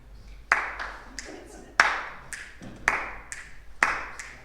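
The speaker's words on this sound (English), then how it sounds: "2 is going to be snapping your fingers" An audience snapping their fingers at a talk on parent, club and player relationships, sharp bright snaps arriving in loose, uneven clusters of several at a time with short pauses between.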